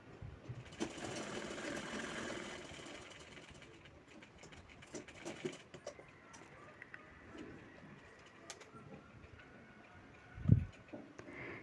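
A sewing machine stitches piping onto fabric cut from an old saree, a faint, quick mechanical whir that runs on and off, with pigeons cooing softly in the background and one low thump near the end.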